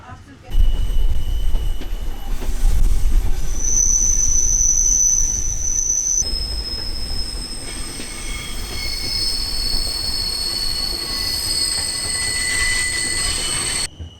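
The Glacier Express train rumbles steadily along the rails on the steep descent from Oberalp Pass to Andermatt, Switzerland, with high metallic wheel squeals ringing out repeatedly over the continuous low rolling noise.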